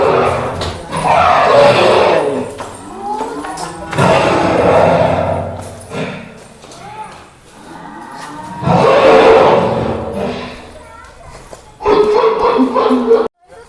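Long, loud cow mooing calls blare in several bursts from a loudspeaker at Muruga Vana park in Chitradurga, sounding harsh and slightly distorted, with gaps between each call.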